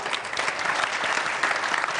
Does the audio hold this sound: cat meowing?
no